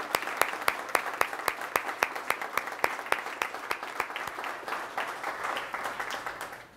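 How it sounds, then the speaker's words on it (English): Audience applause for the mayor at a 2018 SummerWorks celebration event in Louisville: steady, fairly dense clapping from a crowd, with crisp individual hand claps standing out, sustained evenly throughout without speech. "we're gonna extend a heartfelt thank and a rounding sound of applause for your leadership"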